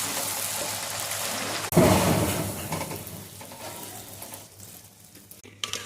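A puri dropped into hot oil sets off a sudden loud sizzle that settles into a steady, softer crackling hiss of frying.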